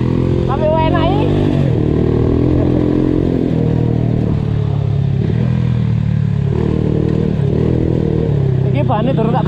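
A Honda WIN 125cc motorcycle engine runs steadily while being ridden, a continuous mid-pitched drone that rises and falls slightly with throttle, with people talking over it throughout.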